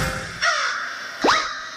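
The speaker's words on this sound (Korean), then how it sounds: "까마귀가 오네요." A crow gives two loud, close caws in quick succession, the second sharper and rising, with no one speaking.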